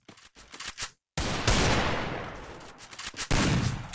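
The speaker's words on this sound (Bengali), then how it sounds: "শট গান নিয়েছে" Rapid shotgun blasts from a MAG-7 in a first-person shooter, several loud, sharp reports in quick bursts with a brief gap of silence, each shot trailing into a long decaying boom.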